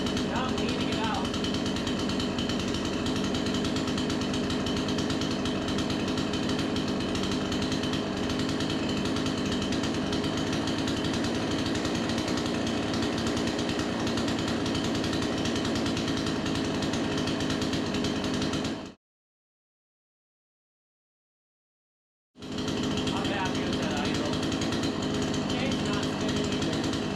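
A Troy-Bilt TB4620C 46cc two-stroke chainsaw with a 20-inch bar runs loud and close during carburetor adjustment, a harsh continuous buzzing whine that cuts out abruptly for a few seconds and then restarts.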